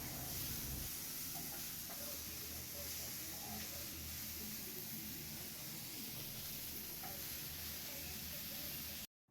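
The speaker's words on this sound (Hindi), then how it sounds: "रूम में हमने एक छोटा सा सेटअप लगाया और यहीं पे हमने मैगी बनाई" Maggi noodles cook on a small setup in a room, giving a steady sizzling hiss with faint stirring clinks for about nine seconds before it cuts off abruptly.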